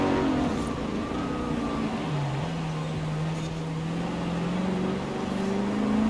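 A Koenigsegg CCX with a 5-litre engine revs in Forza Horizon 4 while driving through snow, a steady droning engine note whose pitch dips and then climbs slowly, with no talking.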